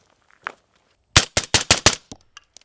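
A .223 rifle fitted with an adjustable gas block fires a loud, close burst of five sharp shots in quick succession, followed by a couple of fainter clinks.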